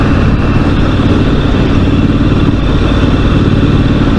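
A steady, loud motorcycle engine rumbling at idle through twin exhaust pipes, its deep exhaust note continuous and close throughout.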